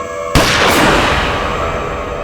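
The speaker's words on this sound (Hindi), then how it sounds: "फिर मैंने गोली चलने की आवाज सुनी" A single loud, sharp gunshot cracks out and then booms away into a long echoing tail, with nothing else following, in a courtroom drama.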